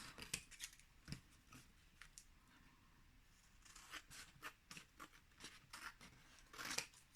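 Scissors snip repeatedly through paper scraps being trimmed for card toppers, a series of crisp, close cuts with irregular spacing and some louder snips toward the end, quiet overall with no talking.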